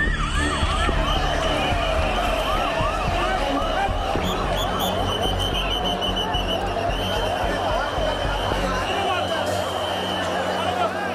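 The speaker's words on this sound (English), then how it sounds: "Constantly for the past about 45 minutes, ambulances are rushing in." Ambulance sirens wail repeatedly through a dense crowd at the Mahakumbh gathering near Sangam, the rising-and-falling tones layered over constant crowd babble and nearby voices, steady and fairly loud throughout.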